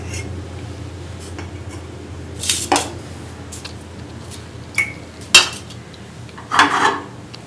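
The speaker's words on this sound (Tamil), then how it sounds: "இப்போ ஒரு நெய் தடவிய தட்டில் கொட்டணும்" Thick palm jaggery and peanut candy is scraped and tipped from a pan onto a ghee-greased plate, with sharp metallic clanks and clinks of utensil against metal separated by quieter pauses.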